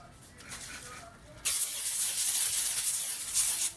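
Cooking spray hisses onto a baking pan while making yeast bread: a faint short puff first, then one loud, sustained hiss lasting a couple of seconds before cutting off abruptly.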